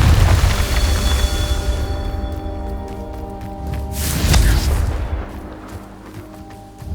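Booming blast from the Confringo fire spell in Hogwarts Legacy, a loud low rumble at the start that decays, followed by a second burst around the middle, with sustained tonal ambience underneath.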